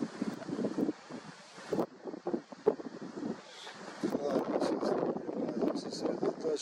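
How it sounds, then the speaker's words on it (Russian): Gusty wind buffets the microphone in uneven, rumbling bursts outdoors at night, with muffled voices and water-like noise underneath. "Хотя ветер, наверное, шумит дико."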